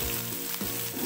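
Spices sizzling and frying in hot oil for a goat liver dish, a steady loud crackling hiss close up with no talking.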